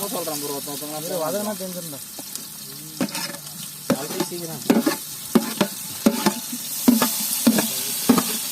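Oil sizzles steadily as onions fry in a big pot for biryani at night, with sharp scraping clanks of a ladle. A voice talks briefly at the start.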